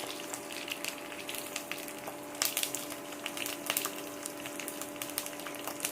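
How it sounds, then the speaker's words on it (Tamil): Garlic, shallots, curry leaves, fenugreek and a dried red chilli sautéing in a pan make a steady, close, hissing sizzle, broken by occasional crackles and stirring scrapes, with no talking. "இதெல்லாம் கொஞ்சம் நல்லா வதக்கிப்போம்"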